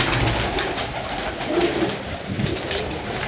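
A pigeon coos in short repeated low calls over a steady background hiss, fairly close and with no talking.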